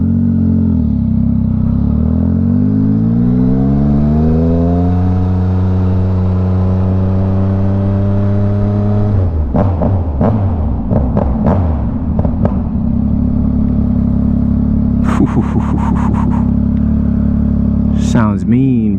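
A Yamaha XSR900 motorcycle on a night ride, its engine climbing steadily in pitch as it accelerates over several seconds, then settling into a loud, steady drone with bursts of clattering and wind noise, while voices talk over it.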